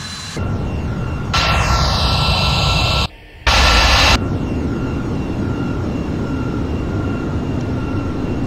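Airbus A340 jet engines in a flight simulator game, a steady broadband roar with a high whine, swelling louder midway, cutting out briefly for about half a second, then returning to a constant drone.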